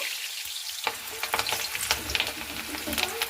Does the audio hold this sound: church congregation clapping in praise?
no